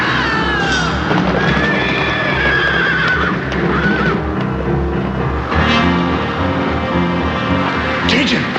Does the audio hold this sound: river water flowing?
no